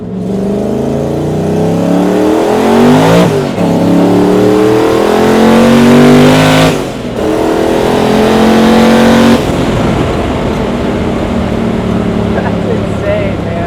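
A twin-turbo Coyote V8 in a stick-shift Ford Maverick revs hard and loud up through the gears, rising pitch climbing between sharp shift breaks, then settling into a rougher drone as people talk.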